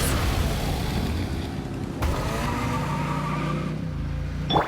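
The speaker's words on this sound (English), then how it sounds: "Rev the engines!" Vehicle engines rev and roar in the Genshin Impact video game, a loud sustained drone that rises and shifts pitch, with a sharp burst near the end and no talk.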